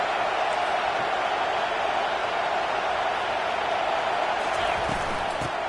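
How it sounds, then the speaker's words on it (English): Steady, loud stadium crowd roar from a Madden football video game, a continuous wash of noise with faint cheers rising now and then throughout. "This crowd bringing the energy and noise early."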